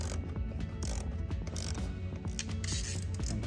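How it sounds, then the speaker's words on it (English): Shallow 10 mm socket on a ratchet snugging a bolt on a Dodge Hornet's plastic shielding, a close, quiet run of rapid clicks with no talk. "Then we're gonna snug up this one back here with a shallow socket."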